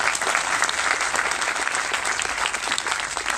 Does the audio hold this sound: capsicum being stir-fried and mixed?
no